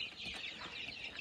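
Young chicks give a constant, high, thin peeping chorus, close and fairly quiet, with no voices over it.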